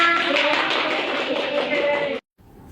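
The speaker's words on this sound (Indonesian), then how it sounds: "Oke, tepuk tangan untuk kita semua." Students in an Indonesian classroom clap together after a hands-on hydrostatic pressure experiment, producing a brisk, even patter of applause with voices mixed in for about two seconds before it stops abruptly.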